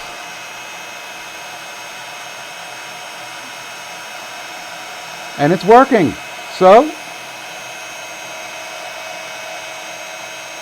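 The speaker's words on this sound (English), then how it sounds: "So I'm just heating up my heat tool." A steady, even whoosh of a craft heat tool blowing runs throughout, with a person speaking briefly over it midway.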